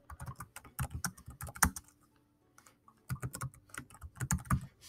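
Typing on a computer keyboard while entering an assignment title in Google Classroom, with quick, soft, close keystrokes in two runs separated by a brief pause.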